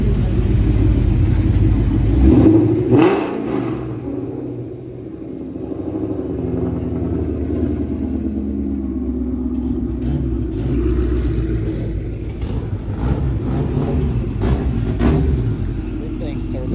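A turbocharged car engine rumbles at a car meet, with a sharp rev early on before settling into a deep, steady idle. People talk nearby.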